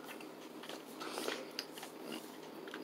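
Close crunchy chewing and biting into rich double chocolate edible brownie batter studded with unmelted sugar, a steady gritty crackle of mouth noises with one sharper crunch near the middle.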